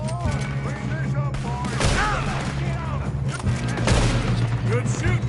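Continuous, heavy gunfire fills a shootout in Red Dead Redemption 2, with loud overlapping rifle and pistol shots and bursts, while game voices and other battle noise run underneath.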